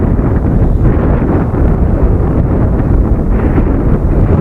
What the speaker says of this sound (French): on a beaucoup de vent